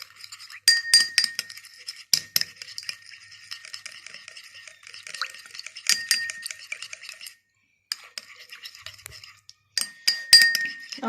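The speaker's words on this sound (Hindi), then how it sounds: "और इसको अच्छी तरह मिक्स कर लेंगे।" Bright glassy clinks of a spoon stirring homemade neem serum in a small container, irregular taps and scrapes coming in clusters with short pauses, close and clear with no talk.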